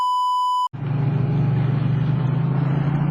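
A 2018 Yamaha MT-07 motorcycle engine runs steadily and loud after the clutch is released, giving a deep continuous rumble. A pure tone beep comes first and breaks off sharply just before the engine sound.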